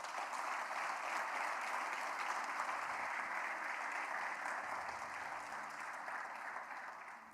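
A church congregation applauds during a sermon, a broad sustained roar of clapping from many hands that holds steady and then slowly fades toward the end.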